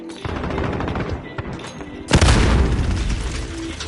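A grenade explosion and gunfire in Call of Duty Modern Warfare: rapid, steady shots run close and loud, then a heavy blast bursts in about halfway and leaves a rumbling roar with more shots under it.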